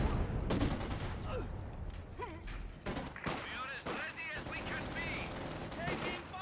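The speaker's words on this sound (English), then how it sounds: "Must be targeting that machine gun. It's a huge amount of damage." Machine gun bursts and gunfire in the Company of Heroes 2 strategy game, dense rattling volleys with explosive cracks spread across the battle, a voice talking over the action.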